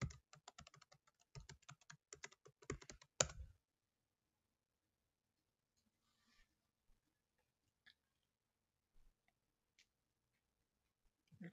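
A password is typed on a computer keyboard at an ESXi 6.7 server console: a quick, close run of key clicks for about three seconds, then a few sparse, faint taps.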